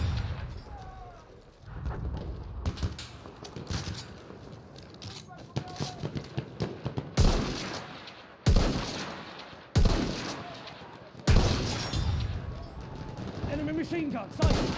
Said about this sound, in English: Enemy machine gun, sight!